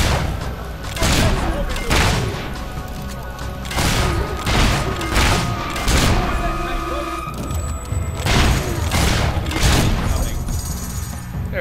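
Gunfire in Fable 3 bursts out in loud, repeated booming shots at irregular intervals, each blast ringing briefly over a busy game background.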